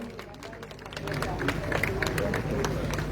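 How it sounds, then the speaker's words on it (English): A festival crowd at Bonderam applauds a judge. Scattered claps sit over steady crowd chatter and babble, and the sound grows fuller after the first second. "Give him a round of applause, please."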